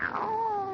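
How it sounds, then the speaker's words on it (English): A cat yowls close by in a drawn-out, falling-then-level meow, loud and alone, lasting under a second. "Oh, it's the cat."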